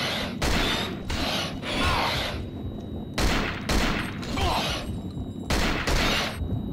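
Loud gunshots in the Cold Fear video game, several heavy blasts spaced a second or so apart with rumbling tails and mechanical clanks between, close and without talk.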